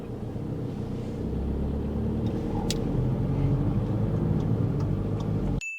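Learner's car moving off during a driving test, a steady low engine rumble and road noise from inside the cabin that builds gradually before cutting out abruptly at the end.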